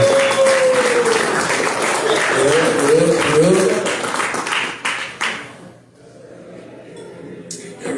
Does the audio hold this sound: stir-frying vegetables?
no